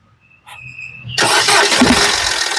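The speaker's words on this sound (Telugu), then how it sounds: "సింగిల్ సెల్ఫ్ లో కార్ స్టార్ట్ అవుతుంది" A 2014/15 Chevrolet Beat fires on a single crank: a brief dashboard chime and starter whir, then the engine catches and settles into a loud, steady idle close by.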